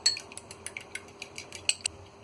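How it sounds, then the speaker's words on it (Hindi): An egg is beaten in a bowl with a fork or whisk, making a quick run of sharp metallic clinks and taps, close and fairly quiet, in an irregular rhythm with no talk. "तो सबसे पहले हम अंडे को अच्छी तरह फेंट लेते हैं।"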